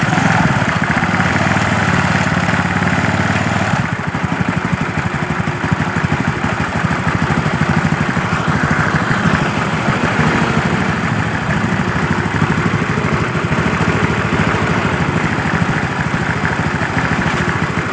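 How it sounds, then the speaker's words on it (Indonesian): A Honda Beat scooter engine idles steadily just after being started, a loud, even mechanical drone that carries on unbroken from start to finish, with no voices over it. "Baiklah, motor ini sudah menyala ya."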